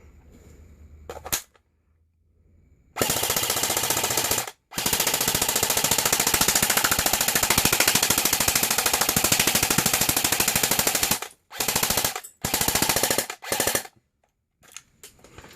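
Airsoft PTS rifle with an EPM magazine firing full auto in a feed test: a loud, rapid mechanical rattle that runs unbroken for about seven seconds, then several short bursts. No one speaks.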